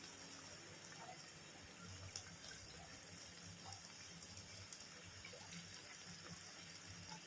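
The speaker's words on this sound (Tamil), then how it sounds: "இப்போ கொஞ்சமாக தண்ணி ஊற்றி அந்த கொஞ்சம் வேகத்துக்காக ஊற்றுறோம்." Water is poured from a tumbler into chicken gravy cooking in a pot, giving a soft, steady splashing stream that runs on without a break.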